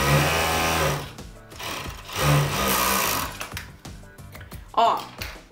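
Sewing machine stitching a child's coat, running in a steady whirring burst, stopping, then starting again in short runs, loud and close, with someone talking between stretches.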